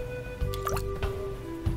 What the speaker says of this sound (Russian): нам нужно набрать воды.